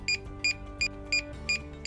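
A DJI Mavic Air 2 drone remote controller beeps six times in a steady, quick rhythm while linking, each short high-pitched tone clear over a faint low hum.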